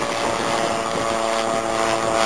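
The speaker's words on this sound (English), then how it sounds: "I think that plane, or helicopter, was actually a gyrocopter." A gyrocopter flies near Canberra airfield, giving a loud, steady propeller-and-engine drone that holds without a break throughout.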